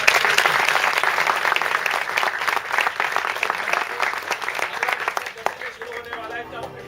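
Audience at a Hindi cultural society stage performance applauding loudly, a dense, sustained clapping crowd with crisp individual claps, fading near the end as a voice begins speaking.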